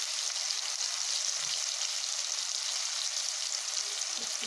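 Chili powder and turmeric hit hot oil in a pan for a spicy Loitha fish curry, giving a steady, close hiss of frying that carries on without a break.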